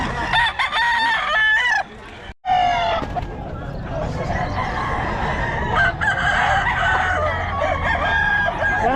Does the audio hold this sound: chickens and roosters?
yes